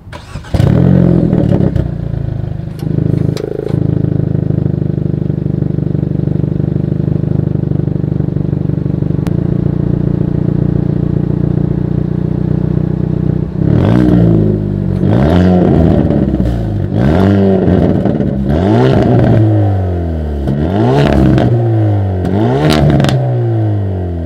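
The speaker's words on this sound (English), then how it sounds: "As always, here is that exhaust clip." A 2020 Hyundai Veloster N idles with a deep burble, then its exhaust revs hard several times in rising and falling bursts, loud and close.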